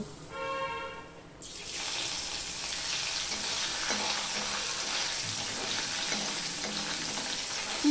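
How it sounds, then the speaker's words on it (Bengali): Morola fish frying in hot oil in a pan, a steady loud sizzle that bursts in after a brief quieter moment of faint clinking, continuing without pause. "এবার আমি এই মাছগুলোকে ভেজে নেব"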